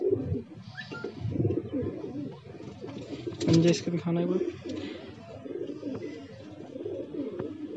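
Madrasi pigeons coo in a low, rolling chorus near by, with a louder burst midway, while people talk quietly over them.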